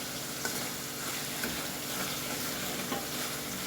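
Eggplant dish sautéing in a pan with black pepper stirred in, a steady loud sizzle and frying hiss with occasional soft stirring scrapes, no voices.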